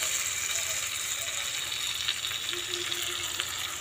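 A ground paste of green chilli, ginger, cumin and onion is poured into a frying pan with partly boiled potatoes for a thin catla fish curry, giving a steady loud hiss and sizzle that holds evenly throughout.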